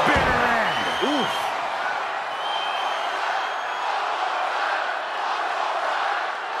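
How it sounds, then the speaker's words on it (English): Arena crowd roaring during a wrestling match in the Def Jam 2K22 video game. A loud, sustained wash of cheering fills the clip, and a couple of short swooping effect tones rise over it at the start. "The sound of this crowd is deafening, and he's asking for more."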